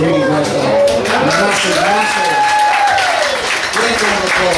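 Audience applause at a live pub music show in Dunstable, a sustained, dense wash of clapping from a crowd close by, with a voice talking and calling out over it throughout.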